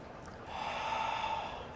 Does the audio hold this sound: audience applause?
no